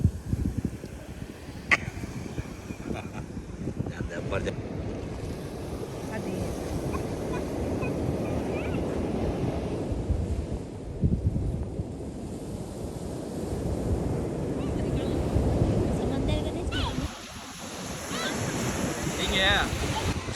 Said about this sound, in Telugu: చూసారు కదా మొత్తం బీచ్ అంటే ఇదే అండి, క్రౌడ్ తక్కువ బీచ్